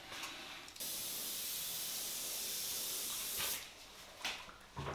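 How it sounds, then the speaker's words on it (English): An aerosol can sprays charcoal gray paint onto a masked Scott Spark bicycle frame, a loud continuous hiss held for several seconds, then shorter bursts, up close with no talking. "What I'm spraying on the frame is a nice charcoal gray."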